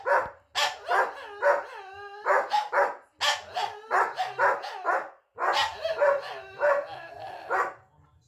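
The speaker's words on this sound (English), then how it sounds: "the dulcet tones of Bud barking at nothing in the background" A dog named Bud barks repeatedly in the background, a steady run of sharp, fairly loud barks with short pauses and a few yelping, howl-like tones, with no one speaking over it.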